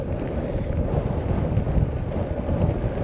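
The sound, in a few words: strong wind blowing at a wildfire helicopter staging area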